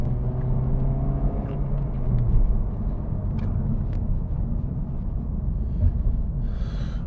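Inside a Honda Civic Type R FL5, the engine hums and rumbles steadily at close range, with a few short revs as it blips through gear changes over road noise. No one speaks.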